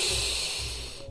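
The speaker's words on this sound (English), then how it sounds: "So breathing in through the nose," One deep, close breath drawn in through the nose during an exercise-ball workout, a steady airy hiss that fades toward the end, with no speech.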